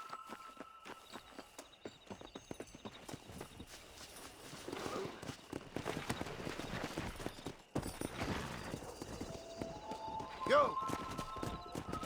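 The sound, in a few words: horse riding hoofbeats in the video game Red Dead Redemption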